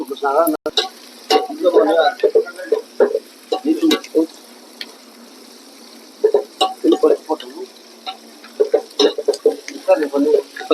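Upma frying in a pan with a steady sizzle and repeated stirring scrapes in uneven bursts, close and fairly loud, with short pauses between bouts.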